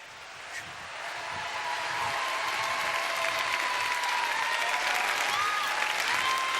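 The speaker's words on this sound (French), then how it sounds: "applaudissements pour Dave qui est ici" Studio audience applause on a French television variety show, a dense wash of clapping that swells over the first two seconds and then holds loud and steady.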